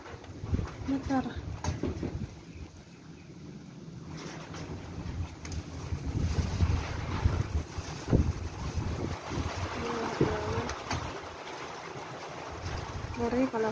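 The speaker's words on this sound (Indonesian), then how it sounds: "Jadi hujan angin campur debu lagi." Strong wind and rain during a dust storm at Al Fress, Saudi Arabia, roar as a steady, close blustery rush with gusts and rumbling buffeting on the microphone; a few voices speak faintly underneath.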